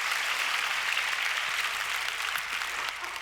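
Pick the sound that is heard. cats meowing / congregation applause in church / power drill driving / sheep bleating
congregation applause in church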